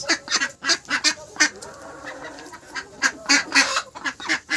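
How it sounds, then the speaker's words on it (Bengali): Domestic household ducks quack in a rapid, uneven series of loud, close honking calls that keep going throughout, with no talk over them. "এই যে হাঁস"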